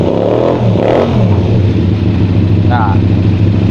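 A two-cylinder Honda Tiger motorcycle engine runs loudly and close with a steady throbbing hum, without vibration, while someone talks over it.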